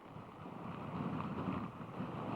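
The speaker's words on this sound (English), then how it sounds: "the winds have been gusting, the rains have been coming" Gusting wind from Hurricane Florence in Myrtle Beach, a steady broadband roar that swells slightly louder through the second half, with no voices.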